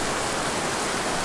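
A roadside mountain creek rushing past, a dense, loud, unbroken roar of flowing water close by with no voices.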